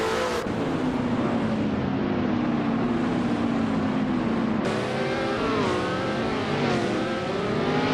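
Racing cars in a video game race, led by a 1968 Crossell 15F, drone past with loud, continuous engine whine and rising and falling revs, close and dense, with no talking.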